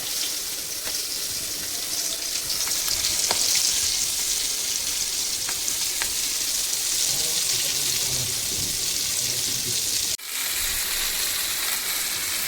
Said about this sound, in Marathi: हे आपण आता फ्राय करायला ठेवलेलं आहे